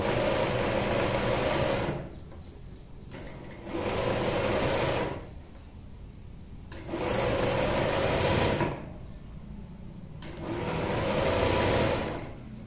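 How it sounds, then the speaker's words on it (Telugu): Sewing machine stitching folded piping onto a boat neck dress, running in four loud, steady bursts of rapid mechanical chatter close by, each lasting about two seconds, with quieter gaps of fabric handling between. "పావించి మందం మలిచి కుట్టండి"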